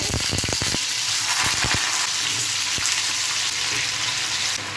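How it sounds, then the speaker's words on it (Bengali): Potatoes frying in well-heated oil in a pan for a cauliflower and potato fry, giving a loud, steady sizzle with a few sharp crackles near the start, close up and without talk. "এবার আমি প্যানের মধ্যে আস্তে আস্তে করে আলুগুলো ছেড়ে দেব।"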